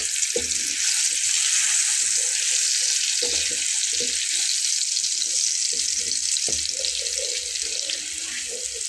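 Mixed spice paste sizzling loudly in a frying pan with beef liver, a dense continuous hiss punctuated by scraping, stirring clatters close by.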